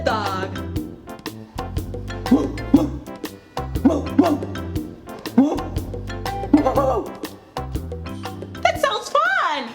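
A human voice imitates a dog, giving a lively series of repeated barks, yips and whimpering sounds, close and loud, in uneven bursts across the whole stretch.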